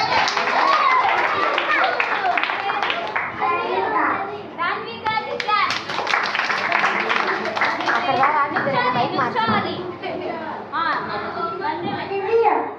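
Children at a Vacation Bible School clap along to a song, with a steady, close patter of small hands running under loud, continuous children's singing and chatter.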